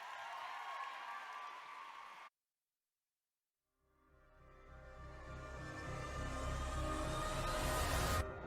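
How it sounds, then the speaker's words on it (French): Audience at a live Easter cosplay event applauding a contestant from Italy: clapping, then a brief silent gap, then applause building back up and growing louder until it peaks near the end. "please give a big round of applause for Italy"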